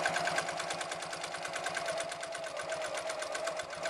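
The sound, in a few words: sewing machine stitching across bulky seam of zipper pouch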